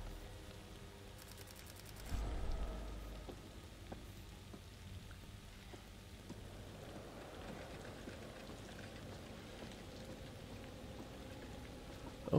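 Steady rain falls in the horror game The Devil In Me, an even hiss of drops hitting surfaces that goes on throughout, with a brief low rumble near the start.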